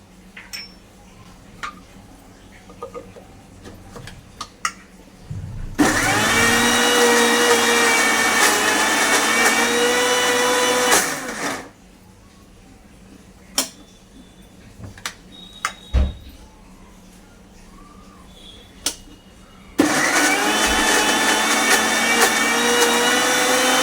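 An electric mixer grinder churns taro into a paste with water added, running in two loud, steady whirring bursts of several seconds each, separated by a quieter pause with light clicks and knocks of the jar and lid.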